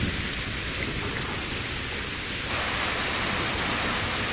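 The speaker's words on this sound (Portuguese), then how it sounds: "Espera ela passar, ó. O som da chuva." Rain in a driving video game, a loud, dense, unbroken hiss of downpour that swells slightly heavier partway through, steady and enveloping with no talk over it.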